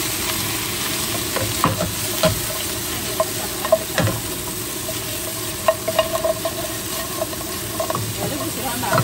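Pork ribs sizzle and fry steadily in caramelized sugar in a home-kitchen pan, with stirring scrapes and small clanks over continuous hiss; a voice speaks intermittently.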